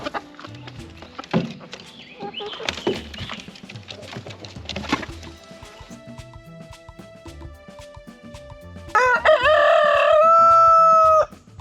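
Egg-laying hens at a new coop on an off-grid Tennessee homestead, close scratching and shuffling followed by soft clucks, then a loud rooster-like crow near the end.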